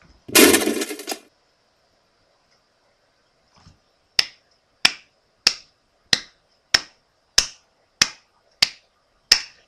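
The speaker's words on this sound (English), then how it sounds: "Just a slow clap right there." Slow clapping from a person, about ten sharp single claps evenly spaced at a deliberate pace, close and loud, following a short burst of noisy sound at the start.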